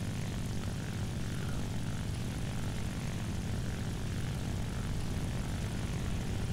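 Piston-engined N1K2-J fighter in War Thunder, its propeller engine a steady, loud, unbroken drone throughout a shallow dive, with no voices over it.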